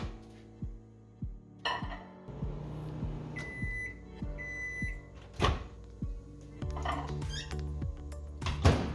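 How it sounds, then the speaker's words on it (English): A microwave oven heats a cup of milk, giving a low steady hum with a series of faint clicks and thuds scattered through it, plus a few brief beeps. "I'm just gonna heat it up in the microwave for about 45 seconds"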